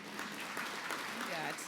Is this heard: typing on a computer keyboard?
no